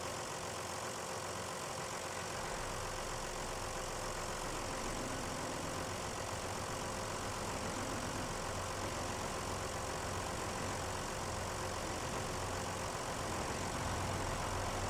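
A vehicle engine in a rocket rescue video game, running as a steady, continuous low drone that holds at an even level throughout, with no voices over it.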